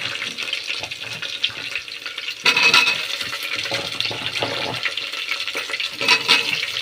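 Watery hissing and sizzling as mixed vegetables are dropped into hot oil with fried onions and stirred in a pan, with louder bursts of clatter partway through and again near the end.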